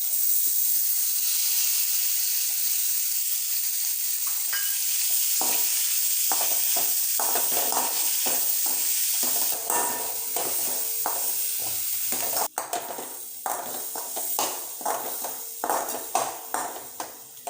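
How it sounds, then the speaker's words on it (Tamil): Two tomatoes sauté in a pan over a medium flame for sundakkai chutney, a steady bright sizzle joined partway through by a spoon scraping and stirring in repeated close taps. "எடுத்து வச்ச இந்த 2 தக்காளி பழத்தையும் போட்டு வதக்கணும்."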